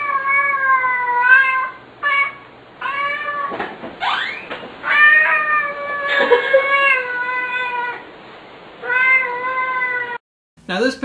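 A cat meows repeatedly in long, drawn-out, talkative cries, close and clear, with short pauses between them.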